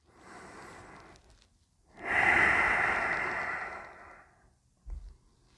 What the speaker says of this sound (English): take 3 breaths here, breathing deep into your belly and into your chest